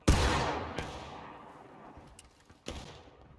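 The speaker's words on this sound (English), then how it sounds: "gonna give him another volley, boys" A company volley of muskets in War of Rights, one loud crashing discharge at the start that rolls away into a long fading echo, with a few scattered single shots following later.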